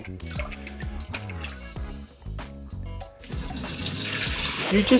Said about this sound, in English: My mom always wanted me to wash rice.